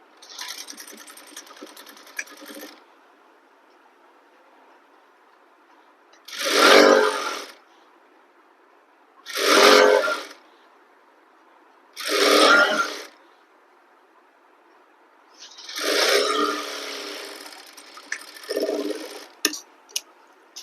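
A sewing machine stitches an opened seam on a garara in several short separate bursts of close, loud whirring, with near silence between them and a longer run near the end, with no talk.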